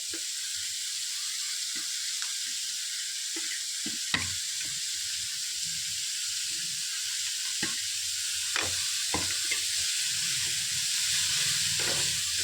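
Shredded cabbage and capsicum sautéing in a hot pan, a steady bright sizzle throughout with occasional soft stirring scrapes and clicks, close and continuous with no talking.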